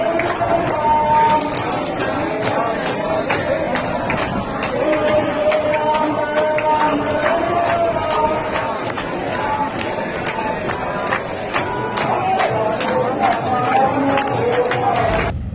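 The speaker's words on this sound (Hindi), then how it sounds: "एक विजुअल है जहां पर काफी भीड़ है, लोग हनुमान चालीसा का पाठ एक सुर में किए जा रहे हैं" A large crowd outside a police station recites the Hanuman Chalisa in unison, producing a steady, dense chorus of many voices that continues without a break.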